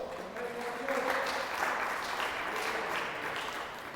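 A church congregation applauds during a Spanish-language sermon, a steady wash of clapping that holds through the moment and softens slightly toward the end, with no speech over it.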